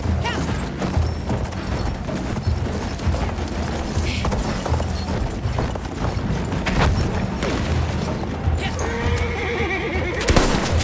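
A horse neighs loudly in Battlefield 1, the whinny rising over constant gunfire, mechanical clatter and battle noise, with hooves and shots continuing throughout.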